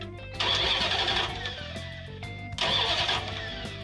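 A 1969 Valiant or 1968 Satellite engine cranks over for a compression test in two loud, evenly chugging bursts separated by a short pause, with no voices.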